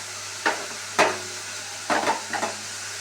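Pumpkin dropped into a hot pan where long beans are cooking gives a background sizzle, with several sharp clanks and scrapes of a utensil against the pan.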